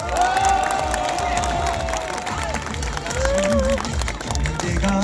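Crowd at a South Korean election campaign rally cheering and applauding, a loud continuous wash of clapping and shouts with amplified music or voices running through it.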